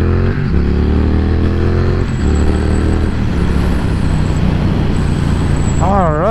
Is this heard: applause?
no